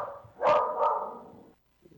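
A single dog gives one or two short, close barks that fade into a brief whimpering tail, followed by a moment of quiet.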